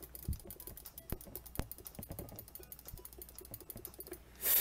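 A computer keyboard clatters in quick bursts, with sharper, isolated mouse clicks standing out between the keystrokes, all recorded close and fairly quiet.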